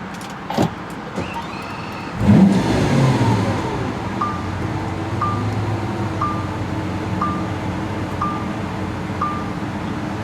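A 2015 Lamborghini Aventador LP720-4 engine cranks and fires up, settling into a loud, rumbling idle, with a short electronic chime repeating steadily over the running motor.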